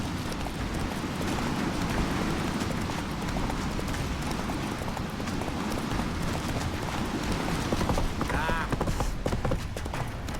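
Roach, the horse in The Witcher 3, gallops in a steady stream of hoof clip-clops under a loud, dense game soundscape, with faint character voices briefly mixed in.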